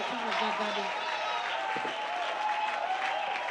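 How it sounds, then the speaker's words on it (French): A church congregation applauds and cheers loudly in praise, steady dense clapping with crowd voices sustained throughout, close and energetic. "acclame très fort le Seigneur"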